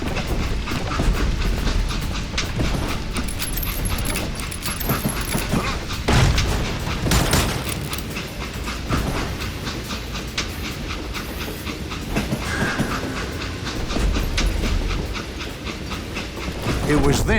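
A train rumbles and clatters along the tracks in the Western video game Call of Juarez: Gunslinger, a loud steady clickety-clack with occasional bangs and bursts of game effects, voices faintly mixed in.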